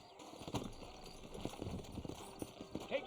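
Horse hooves clip-clop on the ground in the PC game Red Dead Redemption, a run of close, uneven hoofbeats over a faint steady background hum.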